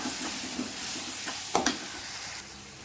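A paste of ginger, garlic, chili and onion frying in a pan for rajma masala, with a continuous close sizzle and a few sharper scrapes and knocks of stirring about midway, no talk.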